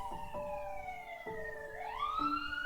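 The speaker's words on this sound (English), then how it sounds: "Can you guys hear the sirens?" Emergency sirens outside a bakery, a wailing tone that slides down and then rises, distant and steady beneath a faint room hum, with no talk.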